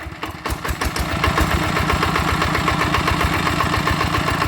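A gas-fuelled engine, freshly rebuilt with new gears, catches and settles into a loud, rapid, throbbing rev, with a steady pulsing chug close by and no talk over it.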